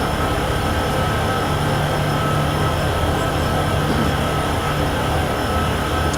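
Freight train locomotives in the Train Sim World 6 video game rumble steadily with a constant engine drone and rolling noise, loud and unbroken.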